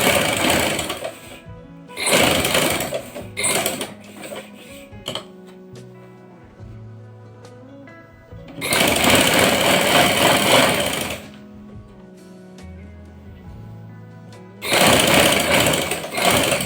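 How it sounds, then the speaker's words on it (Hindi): A sewing machine runs long basting stitches along a lined kameez, in three loud sustained bursts separated by quieter pauses with handling noises, with no voices. "मशीन के बड़े टांके के साथ हमने इसको सेट कर लेना है"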